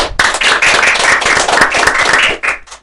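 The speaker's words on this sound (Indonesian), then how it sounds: "tepuk tangan dong untuk Kepala Sekolah SMK PGRI Situ Kedondong dan Bapak Kajur Multimedia" A room of people claps continuously for a vocational school principal and the multimedia department head, a dense, steady burst of many hands close by that carries on for nearly three seconds before fading.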